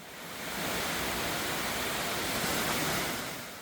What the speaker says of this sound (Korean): 조금 더 가면 웅장한 폭포 소리가 들리기 시작합니다.